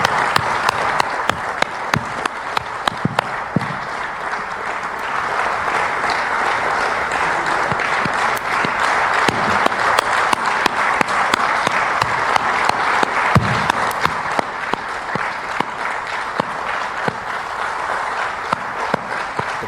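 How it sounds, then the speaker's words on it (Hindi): NDA leaders at a meeting giving the Prime Minister a strong round of applause, a loud, sustained crowd of clapping hands with sharp individual claps standing out throughout. "इस बैठक में एनडीए नेताओं ने प्रधानमंत्री का तालियों से जोरदार स्वागत किया है।"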